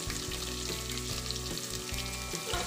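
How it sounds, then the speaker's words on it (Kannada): Two large cut onions frying in oil for a spinach sambar, a steady bright sizzle over a low rhythmic rumble from the stove, close and continuous, no voices. "ಈರುಳ್ಳಿನೂ ಕೂಡ ಚೆನ್ನಾಗಿ ಫ್ರೈ ಮಾಡೋಣ ಎಣ್ಣೆಯಲ್ಲಿ"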